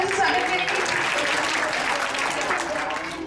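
Applause at a school Republic Day celebration greets a student coming up to speak, a loud, steady wave of clapping from the audience that holds throughout and eases slightly toward the end.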